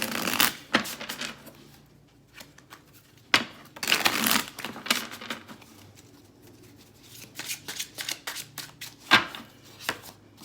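Riffle shuffling of a tarot deck, several quick bursts of fluttering card noise with pauses between, close by and moderately loud.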